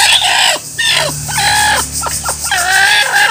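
Hens on a small backyard duck-and-chicken farm cluck loudly and close by in a run of repeated squawking calls, with a crowing-like cry among them and no talking.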